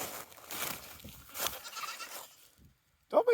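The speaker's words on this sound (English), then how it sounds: "Trying to teach the goats some new tricks." Goats bleating on an Appalachian farm, a few close, loud bleats near the end, with a person talking and background noise beforehand.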